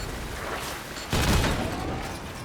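Cannon fire in a naval combat video game, a dull boom landing partway through, then a rumbling blast that fades out beneath a constant background wash.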